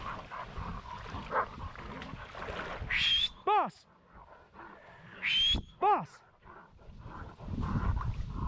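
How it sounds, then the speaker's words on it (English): A small dog gives high, strained yelping screams and excited barks at a cornered raccoon outdoors, in two sharp bursts a few seconds apart over low rustling background noise. "All this goofy screaming she's doing is just her funny way of barking excitedly when she has an animal"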